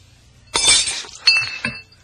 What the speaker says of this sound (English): Can't hold a glass of water.